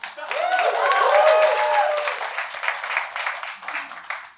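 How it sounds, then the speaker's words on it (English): Audience at a comedy club in Pittsburgh clapping and cheering, a swell of applause with whoops that peaks early, then thins into scattered claps as the crowd settles. "Clap it up for these folks"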